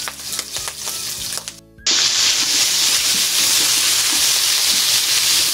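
Pork browning in a pan, first boiled and now frying: a loud, steady sizzle that starts abruptly and holds as a dense, close crackle, preceded by clinks and stirring, with no talk.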